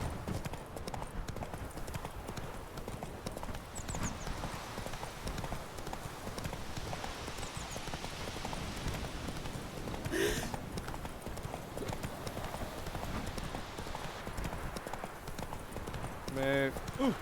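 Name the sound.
horse galloping in video game Witcher 3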